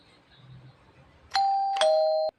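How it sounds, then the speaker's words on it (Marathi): A two-tone ding-dong doorbell rings once indoors, loud and clear, with both chimes sustained for about a second before cutting off, following a short stretch of quiet room noise. "सुमी घंटी वाजली कोण तर आले वाटत"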